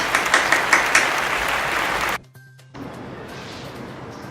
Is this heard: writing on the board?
no